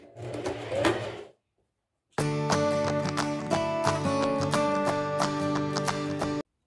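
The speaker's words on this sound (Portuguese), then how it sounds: "Agora é só passar uma costura aqui na beirada." A sewing machine stitches a seam along the edge of a fabric mask, first a short muffled burst and then, after a brief pause, a long steady rattling run of fast stitches, close and loud, with no talk.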